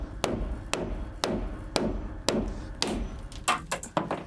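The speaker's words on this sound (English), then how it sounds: "you can take a hammer, give it a couple of whacks" A hammer whacks cut attic floor boards in a series of sharp, hollow wooden knocks, about eight blows at a fairly even pace before a quicker cluster at the end, close and clear with no talking.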